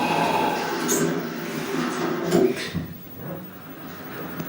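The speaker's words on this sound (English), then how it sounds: "Doors closing." Otis elevator doors sliding shut, a steady mechanical rumble with a brief louder clunk near the end, heard alone without talk.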